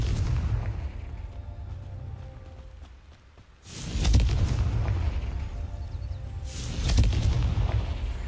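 Two deep booming blasts from the Confringo fire spell in the Hogwarts Legacy video game, the first around four seconds and the second near seven seconds, each with a long rumbling tail over steady low game ambience.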